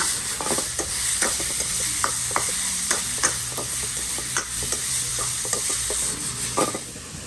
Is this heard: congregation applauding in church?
no